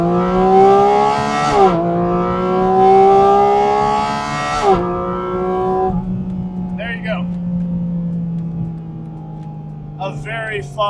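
A Porsche Spyder RS launching hard under launch control, engine note climbing loud through rapid gear changes with brief dips between shifts, then settling to a steady drone as the car cruises; a couple of faint tire chirps near the end.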